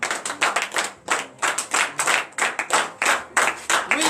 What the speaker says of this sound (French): veuillez vous lever sur vos pieds et donner une vive acclamation à l'Éternel.